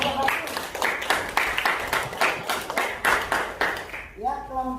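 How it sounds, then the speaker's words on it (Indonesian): A school classroom of students applauds a presenting group, with steady, dense clapping from many hands at close range that fades out as a voice starts speaking. "beri tepuk tangan kepada kelompok 1."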